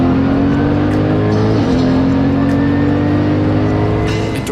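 GT race cars lapping the Jerez circuit in a winter series round, a loud, close, sustained engine drone with steady revving pitch, about four seconds long and without talk.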